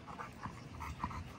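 A dog panting steadily with quick rhythmic breaths, fairly quiet and close, with no voices over it.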